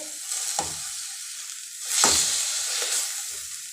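A spoon stirs fried cashews and raisins through thick bottle gourd halwa in a pan, two or three soft scraping strokes over a low continuous sizzle, close by, with no voices.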